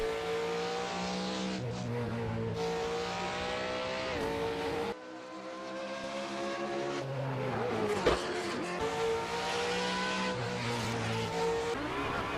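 A V8 race car engine in the video game Assetto Corsa roars loudly, shifting through gears with rising pitch and brief drops between shifts, close and continuous.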